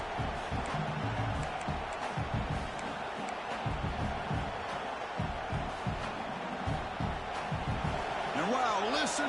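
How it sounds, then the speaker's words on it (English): A roaring stadium crowd at a Florida Gators versus Clemson football game, a steady wash of loud distant cheering that stays constant throughout, with a commentator's voice talking over it. "listen to this crowd noise. This stadium is vibrating."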